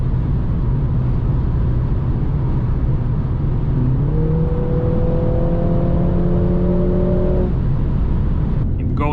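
A 2021 Mercedes GLA 45 S AMG runs fast on the Autobahn, with a loud, steady roar of engine, tyres and wind throughout and a rising engine tone as it pulls harder midway.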